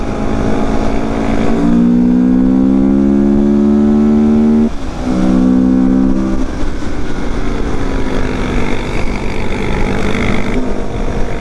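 Quad bikes on a group tour, a loud nearby engine droning and revving, rising and falling in pitch as the machine accelerates, with a brief dip in the middle.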